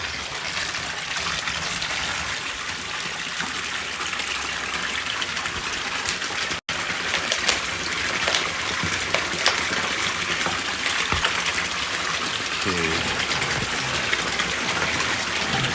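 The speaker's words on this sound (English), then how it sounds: "Okay, Park City, we have some drinking water." Drinking water gushes steadily from a tap outdoors, a continuous close, loud rushing flow with a brief break partway through.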